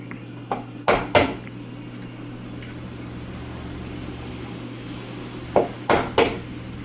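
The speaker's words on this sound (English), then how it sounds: "So we're just going to crack the eggs over this bowl" Eggs, six of them, are cracked against a bowl for loaded scrambled eggs, making sharp close taps in quick pairs and then a gap before another pair, over a quiet steady hum.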